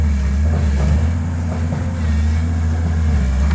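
A farm tractor engine runs steadily nearby, giving a continuous low, droning hum with a faint rattle and no breaks across the few seconds.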